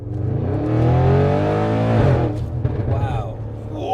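An 820 bhp Audi RS6 with hybrid turbos accelerates hard, its engine note rising steadily toward the rev limit, loud and recorded from inside the cabin, then easing off with a voice heard briefly.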